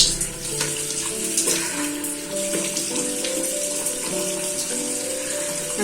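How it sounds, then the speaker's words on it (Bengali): Tap water runs steadily into a sink while a face is washed, a continuous close splashing flow with small shifts as hands move through the stream, no talk. "চলো এখন মুখটা ধুই।"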